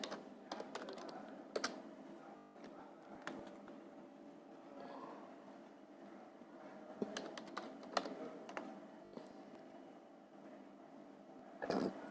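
Fingers tap a computer keyboard in quiet, uneven bursts of light clicks, with a few louder keystrokes mixed in over a faint background hum.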